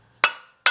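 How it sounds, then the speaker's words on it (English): A hammer gives two light, sharp metallic taps to a water pump on a Chevy 4.3L engine in an Astro van, each strike ringing briefly before fading, alone and close. "and I'll give it a light tap"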